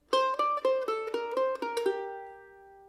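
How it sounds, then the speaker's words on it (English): A mandolin plays a quick run of about seven plucked pickup notes into the B part of a bluegrass tune, bright and close, the last note ringing out alone. "Just those pickup notes are going to sound something like this."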